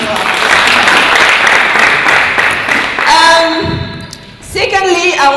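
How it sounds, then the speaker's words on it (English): Audience applause at an annual international pharmacy awards gathering, a dense sustained wash of clapping that runs loud for several seconds, dips briefly, then swells again, with a voice speaking through the later part. "Can we please give a round of applause?"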